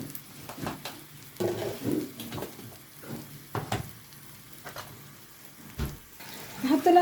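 Food sautéing and being stirred in a pan, with a soft ongoing sizzle broken by scraping utensil strokes and clinks, moderately close, under occasional speech.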